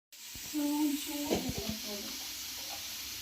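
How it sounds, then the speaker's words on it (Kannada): Chopped corn shallow-fries in a pan with a bright, steady sizzle and a few spatters, while voices talk close by over the cooking. "ಈಗಾಗಲೇ ಶಾಲೋ ಫ್ರೈ ಆಗ್ತೈತೆ ಆಲ್ರೆಡಿ"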